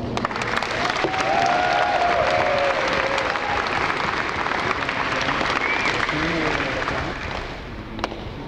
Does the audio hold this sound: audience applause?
yes